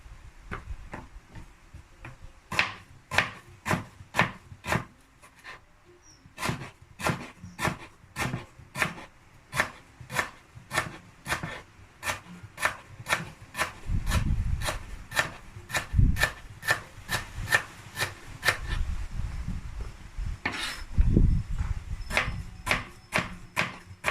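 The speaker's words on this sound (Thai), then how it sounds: "หั่นตะไคร้นะคะ ตะไคร้หั่นฝอย" A knife finely chopping lemongrass on a board in a Thai kitchen, a long run of quick, crisp rhythmic taps with brief pauses, close and clear, some heavier thuds mixed in.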